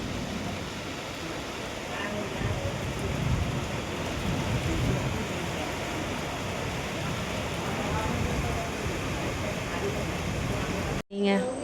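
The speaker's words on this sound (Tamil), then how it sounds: "இடி வந்து நல்லா இடி இடிக்குது" Heavy rain pours steadily during a thunderstorm, with rumbling thunder rolling beneath the downpour, which stays loud and continuous until it cuts off abruptly at the end.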